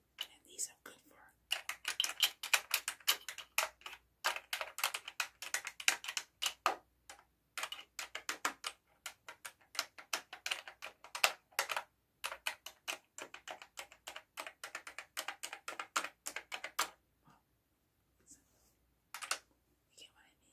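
Keyboard typing in an ASMR setting: dense, crisp key clicks rattle on steadily for about seventeen seconds, then thin out to a few scattered taps near the end, with soft whispering underneath.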